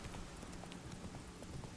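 Steady clip-clop of horse hooves trotting at a regular rhythm in the video game The Witcher 3, moderately close, with no talking.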